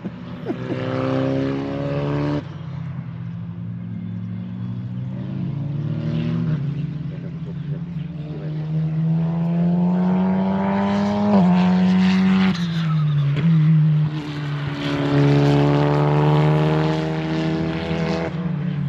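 Formula 1 race car driving, a loud engine note sweeping up and down through gear changes, passing fairly close and steady over about nineteen seconds, with faint voices now and then.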